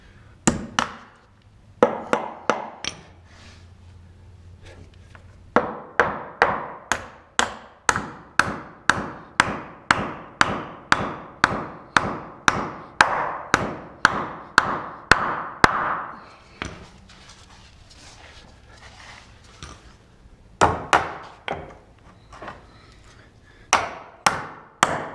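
Hammering on a board being fastened down during mother-in-law suite construction, sharp repeated strikes in quick even runs with short pauses between bursts, close and clear with no talking.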